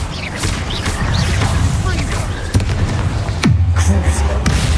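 Incendio fire spell cast in the video game Hogwarts Legacy, a busy stretch of whooshes, sharp bangs and crashing impacts layered over rumbling low combat noise.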